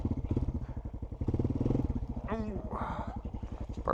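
A Honda TRX250X ATV left in first gear pulses with a rapid, near engine beat that rises briefly as it accelerates, while a rider talks and exclaims over it.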